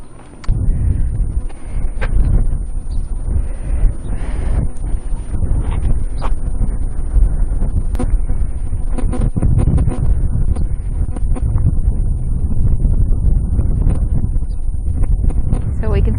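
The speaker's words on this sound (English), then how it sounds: "it's really windy" Strong wind buffets the microphone in Denali National Park, a loud continuous roar and rumble that runs the whole way through, with people talking beneath it.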